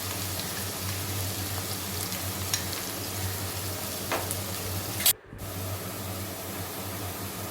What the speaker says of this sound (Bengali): নিয়ে একটু ভাজা ভাজা করে নিচ্ছি